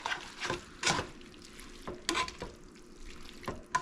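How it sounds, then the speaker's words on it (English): Canned tomatoes from a 15-ounce can get stirred into a pot for unstuffed peppers, a spoon scraping and sloshing in short repeated strokes, fairly close and moderately quiet, with no talking. "Give it a stir real quick."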